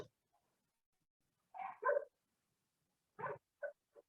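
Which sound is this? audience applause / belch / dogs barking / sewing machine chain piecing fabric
dogs barking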